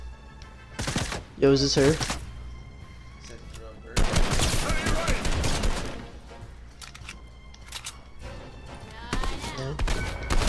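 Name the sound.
gunfire in the video game Fortnite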